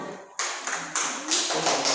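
A few loud, distinct claps from students in a classroom, heavy and spaced roughly every third of a second, with no talk over them.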